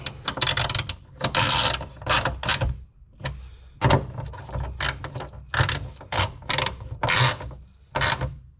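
Hand tightening the six 8mm nuts that hold the taillight assembly on a 1996 Mercedes SL500 R129: a string of sharp ratchet-like clicks and short metallic bursts in irregular clusters, close and fairly loud, with no talking.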